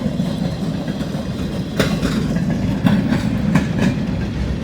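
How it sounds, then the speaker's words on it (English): Local freight train on the old B&O line approaching with its caboose leading on a cold, windy day, a heavy rumble with rhythmic clickety-clack of wheels over rail joints, fairly close and loud. "We got the local coming with the Caboose leading right now."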